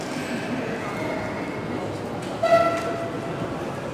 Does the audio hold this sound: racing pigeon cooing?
no